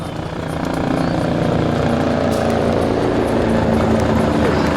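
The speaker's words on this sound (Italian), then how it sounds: "Ora l'elicottero si appresterà per un primo saluto alle autorità." A loud, steady fire brigade helicopter drone at an air show builds quickly and then holds, its rotor chop blending into a broad continuous roar nearby.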